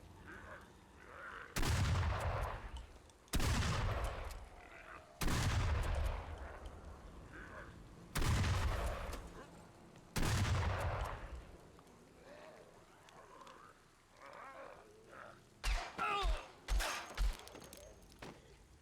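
Gunfire in the video game Contagion: five heavy, booming shots spaced a couple of seconds apart, each with a long decaying tail, followed by a quick cluster of sharper, quieter shots near the end.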